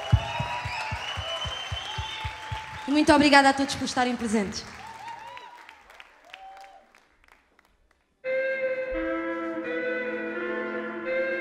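A concert crowd at the Capitólio applauds, clapping and cheering that swells and fades under someone speaking, then drops to near silence before music starts.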